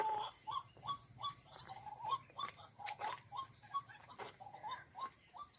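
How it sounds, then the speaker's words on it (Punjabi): Small birds call in quick repeated chirps, faint and somewhat distant, in a quiet outdoor setting with no talking. "ਆਵਾਜ਼ ਆ ਰਹੀ ਪੰਛੀਆਂ ਦੀ"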